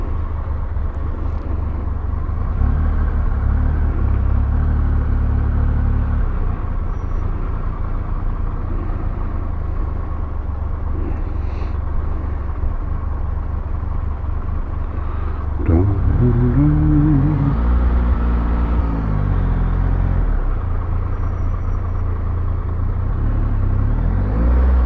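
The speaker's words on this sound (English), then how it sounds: "The traffic's a nightmare around here." Road traffic with cars and trucks passes in Carlingford as a steady, low engine rumble that lasts throughout. Near the end a voice briefly rises above it.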